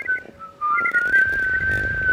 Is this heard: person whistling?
yes